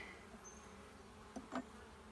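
Honeybees working on a partly built hive frame during an inspection, a faint thin buzzing with a couple of brief louder buzzes as bees pass close to the microphone.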